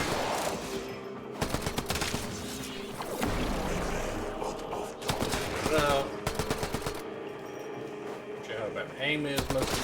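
Repeated bursts of gunfire from a stealth weapon in Warframe, sharp, loud shots in quick clusters across the stretch, with someone talking over the game sounds.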